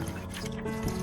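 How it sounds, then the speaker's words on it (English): An orchid plant is washed with clean water in a basin, giving a brief close burst of dripping and sloshing liquid. "I prepared a clean basin to thoroughly clean the entire orchid plant with clean water."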